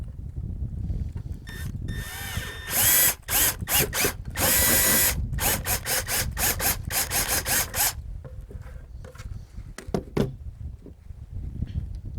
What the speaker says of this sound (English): So I'm just going to drill the pilot hole.